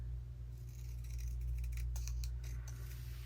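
Scissors snip and trim paper for a mixed-media craft page, a few quick close cuts over a steady low background hum, with no talking.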